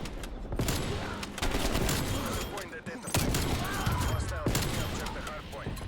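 Rapid gunfire from the Pellington sniper rifle in the game Black Ops Cold War, with repeated loud shots and bursts of combat noise on a Nuketown match.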